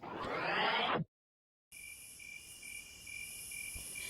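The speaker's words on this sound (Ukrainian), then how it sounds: "Бджоли літають, збирають сок з квіточок" After a brief whoosh and a moment of silence, bees hum in a steady, thin, high buzz that continues without pause.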